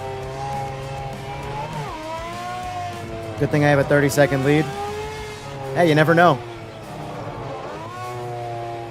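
A Group C race car engine in the Project Motor Racing video game drones steadily, with pitch rising and falling through shifts, under continuous commentary from a streamer.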